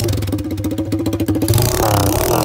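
A pit bike engine revs hard with its silencer hanging off the exhaust, a loud, close, rapid popping and rasping roar that rises and holds.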